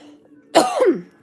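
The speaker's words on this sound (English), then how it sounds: "I feel like I need to cough it out, but I keep coughing." A single short, harsh cough, close and fairly loud, rising out of near silence.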